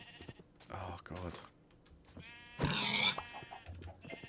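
Minecraft sheep bleating in a game, a couple of short nasal bleats alongside keyboard clicks and a voice talking over them.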